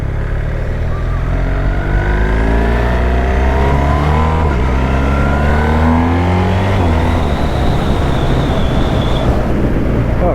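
A BMW R1300R motorcycle with a quickshifter accelerates hard, its loud engine note climbing steadily through the gears with brief dips at each shift, close and continuous throughout.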